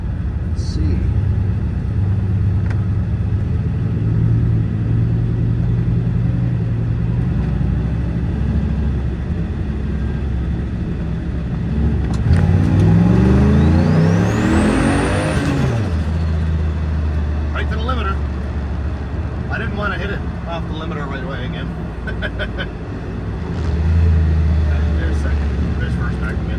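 A car accelerates hard at full throttle in a floor-it test, its engine rumble climbing steadily as it pulls away, with road noise and passing traffic around it.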